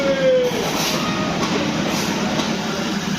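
A running passenger train carrying people who ride at risk, with a steady loud rumble of wheels and carriages throughout and a faint high squeal near the start.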